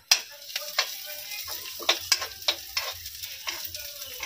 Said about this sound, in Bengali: ডালটা প্রথমে ভালো করে ভেজে নেব।